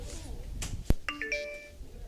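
Short phone text-message alert in a radio ad aired during a baseball broadcast, a brief rising chime of a few tones after a sharp click, fairly close, with faint voice nearby.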